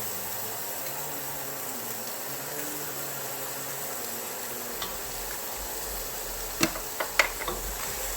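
Chopped onion frying in hot oil for chile con carne gives a soft, steady sizzle, close by but fairly quiet, followed by a few sharp clicks and scrapes of a utensil stirring the pan.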